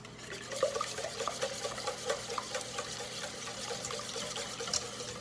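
Eggs being stirred into the liquid ingredients for a lemon poppyseed loaf batter, a run of soft wet sloshing and clicking strokes in an uneven rhythm, moderately close, with no talking.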